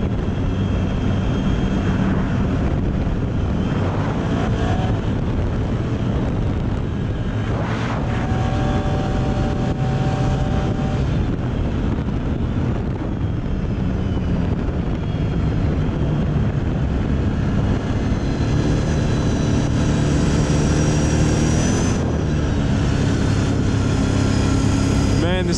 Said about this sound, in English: Going 60 miles an hour on mud tires down a dirt road with some bumps all over it.